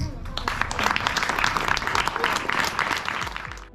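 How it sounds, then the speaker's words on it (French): Sustained applause from a crowd at an inauguration ceremony, dense steady clapping filling the whole stretch, with a few voices mixed in. "Je vous demande d'applaudir notre directrice, Madame Dedaubelair."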